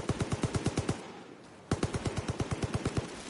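Bursts of rapid automatic gunfire aimed at the player in Far Cry New Dawn: a volley of about nine sharp, evenly spaced shots, a brief pause, then a second, longer burst of similar shots, loud and close.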